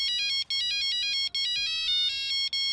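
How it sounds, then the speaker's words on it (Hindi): A bright electronic phone ringtone plays a repeating melodic pattern, pausing briefly between phrases, clear and close with nothing else audible. "फोन भी तभी बजता है"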